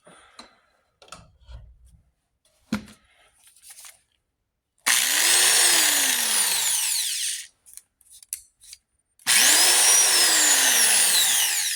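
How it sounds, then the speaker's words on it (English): A vintage Harbor Freight electric right-angle drill whirs loudly in two bursts of a few seconds each, spinning up and winding down, with quiet handling noises between. "So let's take his right angle drill here."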